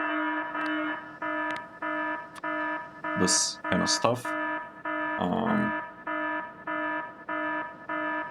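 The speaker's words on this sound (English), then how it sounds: "And we'll have an alarm, global playback, show alert" A repeating electronic alarm from the video game Factorio beeps in regular pulses about once every second, loud and tonal, while a person talks over part of it.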